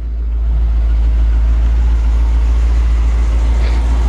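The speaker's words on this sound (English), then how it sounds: "So 390 engine sounds great. Just old truck sounding." A 1956 Ford F100 truck with a 390 engine runs steadily, a loud, deep low-end idle rumble that holds constant and close throughout with no talking.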